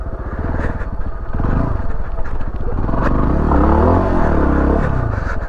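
A dirt bike engine drones loud and close through a left-hand turn, a rough steady chugging that swells slightly mid-turn, with some rattle and scrape over it.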